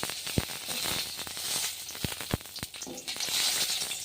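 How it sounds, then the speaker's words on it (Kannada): Chopped onions frying in a pan for a North Karnataka green chilli chutney give a steady sizzle with scattered crackles and pops, moderately loud and close. "ಈ ರೀತಿ ಗೋಲ್ಡನ್ ಕಲರ್ ಬರೋವರೆಗೂ ಫ್ರೈ ಮಾಡ್ಕೊರಿ"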